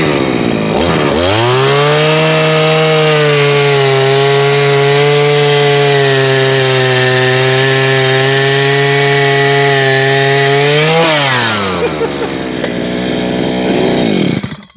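A motorized earth auger driven by a bike engine bores into soil with a 150 mm bit. The engine revs up loudly, holds a steady, strong drone for about ten seconds, then winds down.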